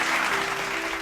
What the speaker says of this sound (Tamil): கைதட்டுங்க.